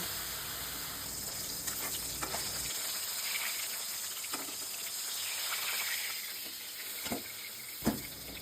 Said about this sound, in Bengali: এবার কড়াইতে তেল গরম করে একে একে মাছগুলোকে ভেজে নেব।